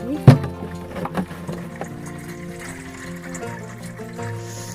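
Water running into a container at a mountain spring source in Himachal, a steady filling stream with a few louder knocks and splashes near the start, close by and continuous.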